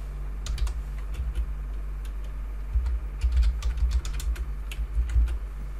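Typing on a computer keyboard to copy and paste a list of playing cards: scattered close key clicks and taps, a few quick bursts over a low steady hum, no talk.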